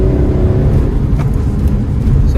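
A Tata Nexon 1.2 turbo petrol with a Superchips Stage 1 ECU tune pulls hard under acceleration, a loud, steady engine and road roar from inside the cabin with no break or voices.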